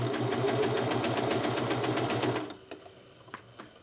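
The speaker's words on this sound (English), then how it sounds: "Because the serger only serges straight." A serger sewing machine runs fast through fabric with a rapid, even mechanical chatter for about two and a half seconds, then stops, leaving a few faint clicks and taps.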